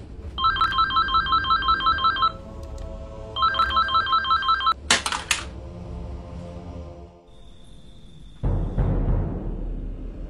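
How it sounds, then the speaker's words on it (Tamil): A telephone rings with a repeating electronic ringtone in two close, loud bursts, followed by brief clatter and a steady tone before a rumbling background takes over. "ஃபோன் அடிக்குது பாருங்க."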